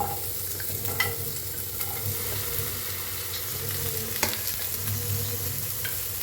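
Ingredients for egg curry roast in a hot pan with a continuous close sizzle, broken by occasional sharp clicks of a spoon stirring against the metal.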